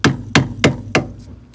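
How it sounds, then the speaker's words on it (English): Plastic clips hammered into a spline, four sharp, loud hammer blows in an even rhythm, then two fainter taps as the strikes trail off. "So I'm just going to hammer those clips in"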